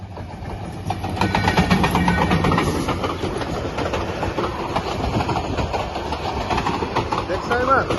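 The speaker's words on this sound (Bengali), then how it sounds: "দেখছো ট্রেন আসতেছে?" Train approaching and rolling past nearby, a rising rumble of engine and rhythmic clickety-clack of wheels over rail joints, steady and close, with voices talking over it.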